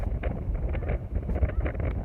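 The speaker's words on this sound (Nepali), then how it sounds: "हावा" Wind blows outdoors over a village hillside near a river, buffeting the microphone with gusty, rumbling low-pitched bursts that rise and fall irregularly throughout.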